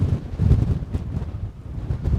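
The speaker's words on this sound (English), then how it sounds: "Flipping heck, it's windy though. Very windy." Strong wind on a coastal hike along Scotland's Dolphin Coast buffets the microphone in low, rumbling gusts that rise and fall unevenly, loud and close, with no talking.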